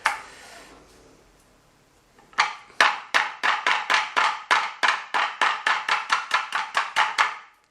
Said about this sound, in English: she's sort of battering the lemongrass with the blunt end of the knife